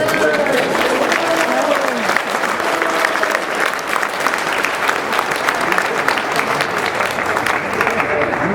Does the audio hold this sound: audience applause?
yes